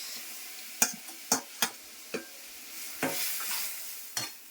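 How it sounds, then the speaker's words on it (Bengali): Cauliflower, carrots and beans go into a frying pan with ginger paste, giving a soft sizzle broken by about six sharp clattering stirs spaced unevenly, with no talking. "সবজিগুলো দিয়ে দিচ্ছি, ফুলকপি, গাজর, বিনস"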